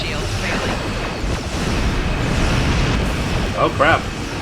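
A space battle explosion in Star Trek Online rumbles as a dense, sustained roar with whooshing swells, while a voice talks over the game audio throughout.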